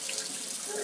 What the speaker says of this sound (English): Turn the cold water on and let the water run over your hands